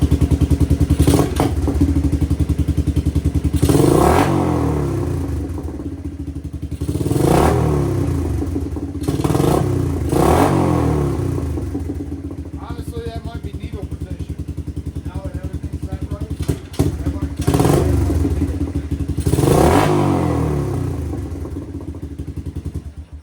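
A 1986 Suzuki Quadrunner LT250EF quad engine runs steadily and is revved several times in loud surges, with the throttle blipped at intervals over a constant idle.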